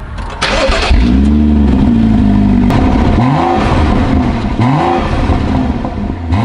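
A turbocharged car engine cranks and starts, then revs up twice in quick, rising bursts over a steady idle, loud and close.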